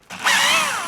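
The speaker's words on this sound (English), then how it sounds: "just add your drill to make it a faster process" A power drill whirs up to speed and holds a steady, high-pitched spin while backing out a screw on a Hansshow replacement performance seat for a Tesla Model 3/Y, close and loud, in one short burst.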